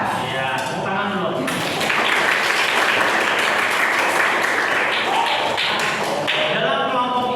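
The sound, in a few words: class clapping hands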